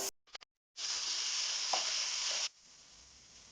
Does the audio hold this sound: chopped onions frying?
yes